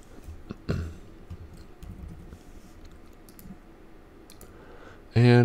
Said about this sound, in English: I can type this.